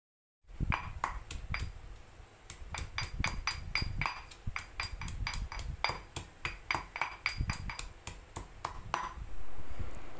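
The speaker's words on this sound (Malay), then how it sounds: "tumbuk sehingga lumatlah" Shallots and garlic are pounded in a mortar with rapid, ringing, clinking strikes, sometimes in quick bursts and sometimes in short pauses, loud and close with no talking.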